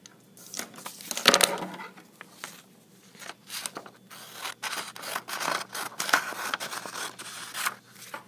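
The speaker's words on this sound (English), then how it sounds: "the first thing you need to do is you need to cut it in half" Scissors snip through a paper worksheet to cut it in half, a run of crisp close cuts and crinkles of paper coming in quick uneven bursts.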